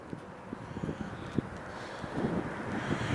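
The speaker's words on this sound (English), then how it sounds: "It's a little windy." Gusty wind buffets the microphone with low rumbling, interrupted by a few faint soft knocks.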